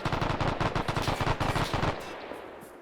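Rapid automatic gunfire in Arma 3, a World War II mod, a close, loud burst of evenly spaced shots lasting about two seconds and then breaking off into a fading echo.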